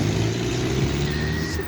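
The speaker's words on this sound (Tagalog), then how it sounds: "Yan, may sasakyan." A car passes on a city street, giving a loud, steady engine rumble close by with the hiss of traffic behind it and no voices.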